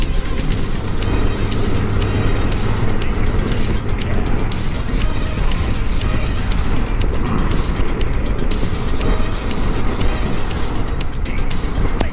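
A BMW K1600 motorcycle riding through busy traffic, its engine droning steadily and loudly with wind rush and surrounding vehicles throughout.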